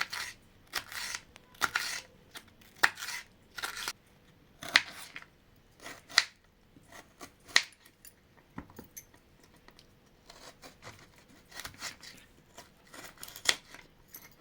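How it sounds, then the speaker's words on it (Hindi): A knife slices a deseeded vegetable into very thin strips for spring roll filling, giving a steady run of crisp, close chopping taps against a board, with brief pauses between bursts. "तो इस तरह से एकदम पतली पतली काट लीजिए।"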